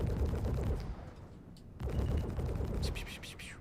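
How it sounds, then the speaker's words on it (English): Air-to-ground strafing gunfire in a space-ship combat video game: a dense, continuous rattle of rapid shots with a brief lull midway, then renewed firing with sharper crackling bursts near the end, loud and close. "Air to ground strafing runs."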